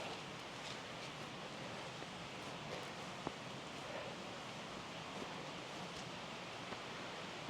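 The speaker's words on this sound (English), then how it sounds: "found that lovely waterfall" A small waterfall on a beck in Deepdale woodland, Yorkshire, gives a continuous soft rushing wash that stays even and fairly faint throughout, with no voices.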